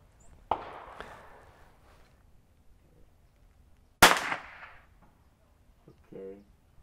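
Two sharp, loud cracks from a CZ 455 Varmint rimfire rifle at an outdoor range, a few seconds apart, each trailing a short decay, followed by a brief voice.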